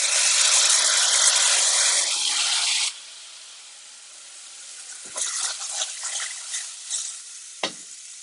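Beans warming in a pan, a loud close hiss of sizzling for about three seconds, then a quieter stretch broken by soft stirring scrapes and a sharp clink near the end.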